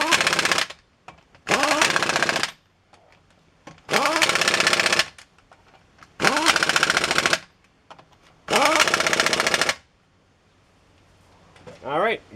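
An impact wrench snugs the wheel lug nuts on a Chevy Silverado during a brake replacement, five loud, rapid hammering bursts of a second or so each, separated by short pauses, with one brief final burst at the end.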